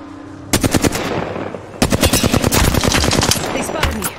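Gunfire from the Apex Legends video game: loud, rapid automatic bursts, a short volley then a longer sustained string of shots, close and sharp.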